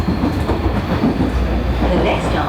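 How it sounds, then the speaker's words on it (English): A late-night Osaka train runs along the rails toward Tengachaya, giving a steady low rumble with rhythmic wheel clatter throughout, loud and close, with no talk over it. "The train was still quite busy at that late hour."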